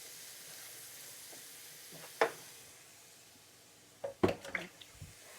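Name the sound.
mushrooms frying in butter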